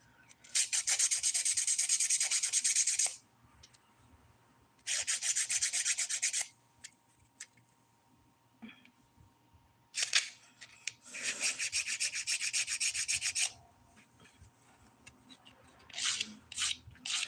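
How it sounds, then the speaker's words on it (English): 180 grit nail file rubbing on dip powder nails, with several close raspy scraping bursts of a few seconds each separated by quiet pauses. "Most of this filing I'm doing with the 180 grit side of my file."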